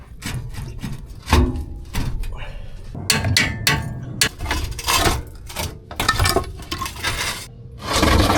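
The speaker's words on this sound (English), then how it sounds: "The axle is now completely free from the trailer frame. Let's drop it down one side at a time." A boat trailer axle is lowered off its frame one side at a time, producing irregular metallic clanks, knocks and scraping, some sharp and loud, with a voice speaking briefly between the impacts.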